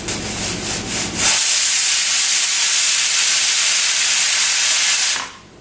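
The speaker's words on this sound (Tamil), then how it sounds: "இந்த விசில் வர்றது இப்போ" A pressure cooker whistles loudly on a stove while biryani cooks on high heat, a sustained steady steam hiss lasting about four seconds after a brief lead-in of bubbling and rattling, then cutting off.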